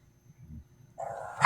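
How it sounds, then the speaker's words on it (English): A dog indoors reacts to a cat outside: after near silence, a short, fairly loud bark or yelp bursts out at the very end. "my dog sees a cat out there and he's going nuts."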